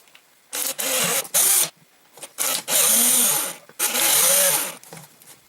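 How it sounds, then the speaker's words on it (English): A power drill bores holes in a homemade Cessna switch panel, loud close whining bursts of varying length with brief pauses between, the drill biting through material in several separate runs. "I'm going to drill all of my holes."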